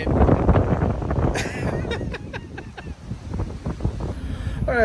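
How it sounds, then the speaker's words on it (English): Gusty wind after Hurricane Beryl buffets the microphone with a heavy low rumble, while a voice speaks faintly underneath. "It's still a little windy."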